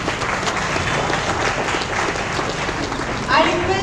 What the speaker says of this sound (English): Take the stage with a round of applause.